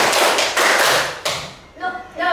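Children in a classroom clapping in unison during a counting clap exercise, sharp group claps in a quick rhythm, then a voice speaks briefly.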